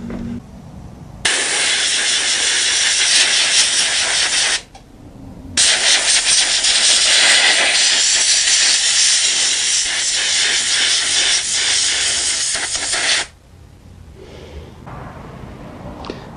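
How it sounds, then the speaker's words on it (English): Compressed air hose blowing out a generator's air filter: loud, close, steady hissing bursts, one of about three seconds and a longer one of about eight seconds, with a short break between. "I'm going to take an air hose and clean this out anyway"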